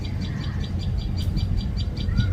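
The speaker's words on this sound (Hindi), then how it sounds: "अभी मॉर्निंग में चिड़िया की आवाज़ आ रही है" A bird repeats a rhythmic series of high, evenly spaced chirps in the morning after overnight rain, fairly clear over a low steady background rumble, with another faint call near the end.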